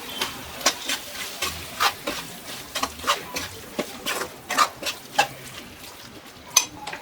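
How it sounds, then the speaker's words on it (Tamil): Pieces of cleaned chicken go into an oil-separated masala in a pan for Madurai salna, giving a run of soft clinks, scrapes and stirring knocks that come and go over quiet background sizzle, with no talking. "நம்ம சிக்கன் க்ளீன் பண்ணி வச்சுருக்க சிக்கனை இதில் ஆட் பண்ணிக்கலாம்."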